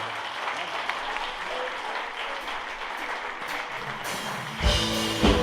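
A church congregation at an evening celebration service applauds loudly and steadily throughout, a dense wash of clapping that swells near the end as music or voices join in.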